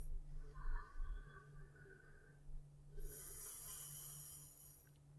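Deep yoga breathing during pranayama: a slow, nasal inhale with a raspy, snore-like texture, then a long airy exhale, close and quiet, with no talking.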